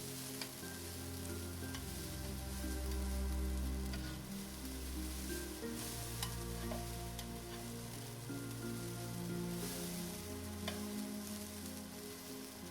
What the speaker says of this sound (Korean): 아홉 번째 김치 주스를 넣고 밥을 잘 볶으세요.